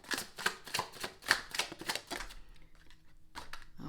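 Tarot cards are shuffled and drawn close up as a quick run of crisp flicks and snaps, followed by a brief pause and a few more soft card taps, with no talking.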